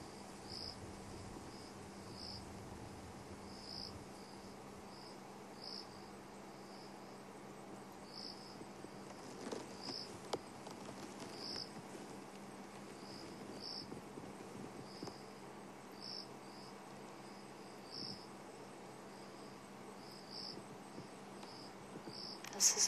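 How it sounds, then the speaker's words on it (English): Cricket chirping at night on a live sunset safari drive, with repeated high, regular pulses coming steadily from one side over a quiet, low background hum, and no talk. "it's just us and the night sounds and that cricket that is somewhere to the left of us"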